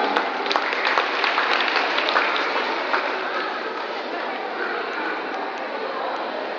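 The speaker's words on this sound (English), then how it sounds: "Let's give him a big round of applause." An audience at a school valedictory ceremony claps in sustained, dense applause that is loud at first and eases slightly toward the end, with some crowd murmur mixed in.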